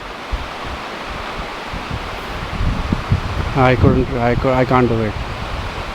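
Waterfall near Kodaikanal sends out a steady broadband rush of falling water throughout, with people talking close by over it in the latter half.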